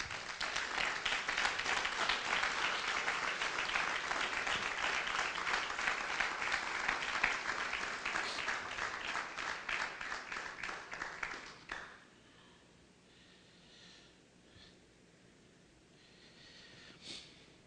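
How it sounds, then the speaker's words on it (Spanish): A church congregation claps together in dense, sustained applause for about twelve seconds, then it stops abruptly and leaves a quiet room with faint scattered noises. "Vamos a aplaudir la presencia de Dios nosotros."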